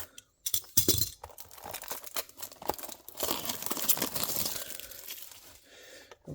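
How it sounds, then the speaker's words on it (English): Plastic wrap being peeled and torn off a 1/64 scale Poprace diecast Nissan GTR Stagea R34 package, close crinkling and crackling in irregular bursts with a few sharper snaps. "Let's take off the plastic."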